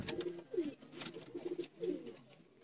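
A female Sialkoti pigeon coos softly nearby, giving several low, rolling throaty calls in quick succession, quiet and alone.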